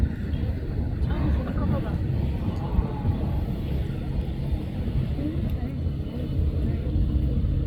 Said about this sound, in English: Here's the first reconnaissance vehicle approaching.